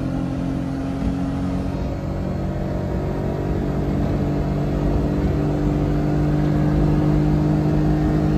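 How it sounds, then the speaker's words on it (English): A Daihatsu Midget single-seat kei car drones steadily from the engine under the seat while driving, a loud continuous hum with a slight rise toward the end and no talking. "It's definitely kind of loud, but the engine is under my seat."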